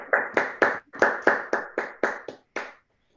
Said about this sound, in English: Maybe we can all come off for a brief applause.